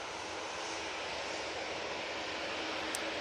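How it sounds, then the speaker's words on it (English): A Ryanair Boeing 737 MAX 8 on final approach into Manchester Airport, arriving from Malta, makes a steady broadband jet-engine roar that holds loud and even throughout, with no one talking. "we've got a Ryanair coming in from Malta using the 737 MAX 8"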